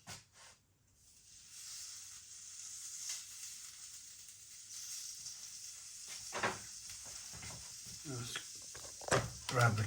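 A Harrogate sausage from Morrisons cooks on a barbecue with a soft, steady sizzle that swells partway through, broken near the end by a few louder clatters and muffled vocal sounds close by.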